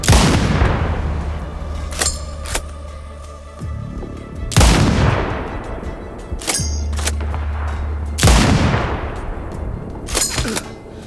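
Heavy gunfire in the shooter game Sniper: Ghost Warrior Contracts 2, with loud booming shots and bursts that repeat about every two seconds, each trailing into a long rumbling decay, with no talk.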